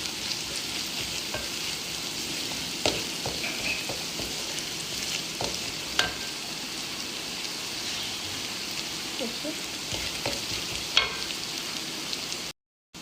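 Onion, garlic and ginger fry steadily in a pan with a continuous close sizzle, punctuated by occasional sharp pops and light stirring scrapes, with no talk over it.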